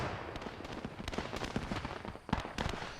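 A tank is destroyed during a World War II video game battle, heard as a dense burst of crackling explosions and sharp blasts, loud and close, with a big pop near the end.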